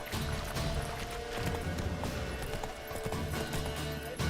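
Hoofbeats of Roach, Geralt's horse in The Witcher 3, clatter at a gallop in a steady rhythm, close and fairly loud over a bed of game music and ambience.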